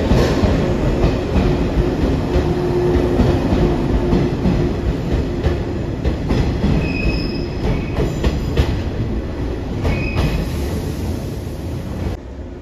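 A JR West 115 series suburban electric train, running as an out-of-service train near Okayama Station, rumbles past loudly and steadily, with wheel noise and brief squealing tones over the continuous roar.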